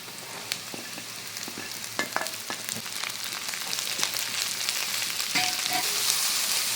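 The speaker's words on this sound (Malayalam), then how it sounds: "ഇതിലേക്ക് അരിഞ്ഞു വെച്ച ക്യാബേജ് ഇട്ട് കൊടുക്കാം." Chopped cabbage sizzles and fries with onion in a pan, a steady crackling hiss with occasional stirring clicks that grows slightly louder as it goes on.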